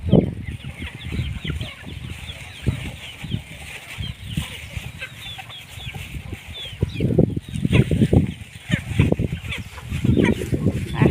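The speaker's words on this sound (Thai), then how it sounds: "ให้อาหารไก่กันนะคะ ทักทายสบายดีกันค่ะ" Chickens cluck and flutter nearby in irregular bursts at evening feeding, with wing flaps and scratching and faint birdsong in the background.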